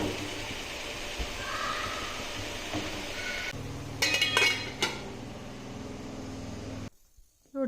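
A metal lid set over a pot of home-cooked curry (salan) finished with green coriander, giving a few close clinks and clatters of metal on metal around the middle, over a steady kitchen hum.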